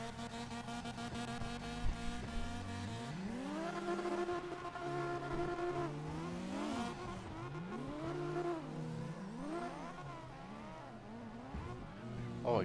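An RX-8 drifting in the CarX Drift Racing game: sustained engine howl rising and falling through repeated revs and gear changes, with tire squeal throughout, loud and continuous.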